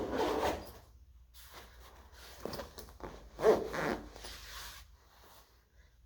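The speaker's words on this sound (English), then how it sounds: "From there, we just unzip." Zipper on a double bass case being pulled open in several drawn-out rasping strokes, soft and close, with short pauses between pulls.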